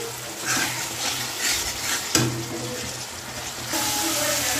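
Spice masala sautés in a pan with salt and a splash of water, hissing and sizzling while a utensil scrapes and knocks against the pan in irregular strokes, with a sharp clatter midway.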